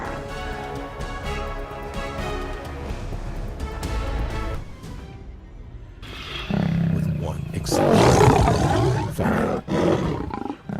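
Lion-like animal roars rise loud and close in the second half, deep and rumbling. Talk and other sounds come first.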